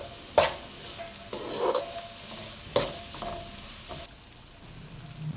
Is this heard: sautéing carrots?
yes